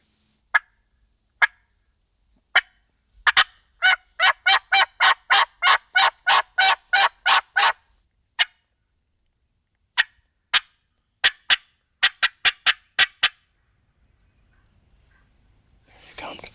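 Wild eastern toms gobble loudly in a raspy series of rapid bursts, with scattered single and clustered calls spread across the stretch and a faint hush of soft voices near the end.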